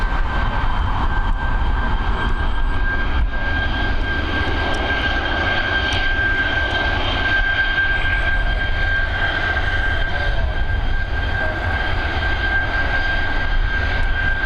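A Star Alliance liveried Boeing 757 arriving at Dublin Airport after a flight from Chicago, a steady loud jet roar with a sustained high whine, distant and continuous, no voices.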